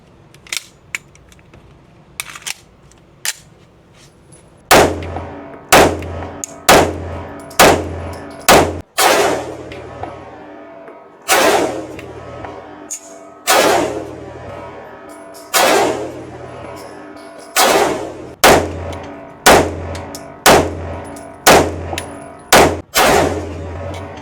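Pistol fire from a Sig Sauer P211 and a Kimber 2K11 Comp: about fifteen loud, sharp shots in an uneven, fairly quick string after a few quieter clicks, each crack ringing out briefly, with no talking.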